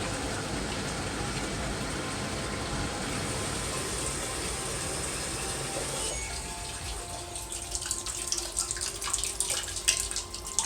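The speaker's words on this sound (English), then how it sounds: "Let the machine started running some water again." A washing machine fills with running water during a bleach deep-clean cycle, giving a steady broad gushing hiss that thins after a few seconds into lighter trickling and dripping, close and continuous with no voices.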